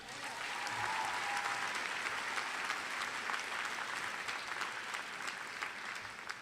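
Sustained applause from a college convocation audience honoring Jonathan Quash, a music adjunct professor, as a dense wash of many hands clapping steadily at moderate distance from start to finish.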